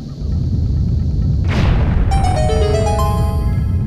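A bomb goes off in The Legend of Zelda: The Wind Waker with a loud booming burst over a constant rumbling background, followed by a rising sequence of chiming musical tones.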